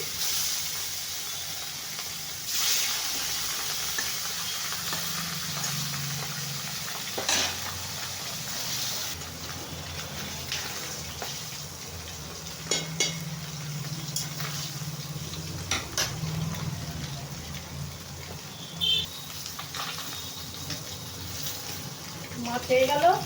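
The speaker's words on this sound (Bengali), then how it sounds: "কড়াই তেল দিচ্ছি মাছগুলো ভাজার জন্য।" Fish frying in oil in a kadai, a steady low sizzle and occasional stirring and clinks, fairly quiet throughout.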